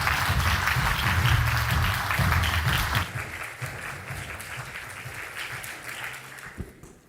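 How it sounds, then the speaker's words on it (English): Audience applause welcoming a speaker onto the stage at a conference keynote, sustained clapping from a crowd that slowly fades toward the end. "Please give a round of applause to the Commissioner Sinkevičius."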